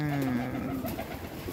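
American Giant Runt pigeons coo in a breeding loft, a steady low warbling murmur from several birds up close, continuous throughout with faint background noise.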